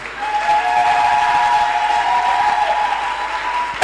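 A church congregation applauds in a sustained, loud wash of clapping during a prayer marathon, with a steady tonal drone running underneath.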